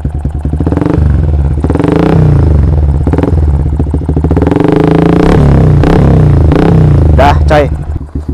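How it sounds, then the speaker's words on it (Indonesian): A Yamaha Vixion street-racing build with a modified aftermarket exhaust revs up close and loud. Deep throttle blips rise and fall repeatedly with a raspy, crackling exhaust note. "kita tes red deh seperti apa raungannya"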